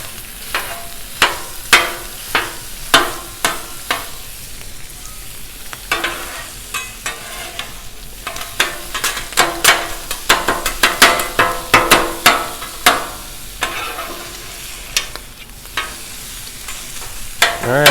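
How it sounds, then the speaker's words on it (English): Sausage and bacon frying on a Blackstone griddle, a steady close sizzle broken by frequent sharp clicks and taps of a spatula scraping and turning the meat, busier toward the end. "the sausage and bacon the bacon's pretty much done. The sausage is cooking up."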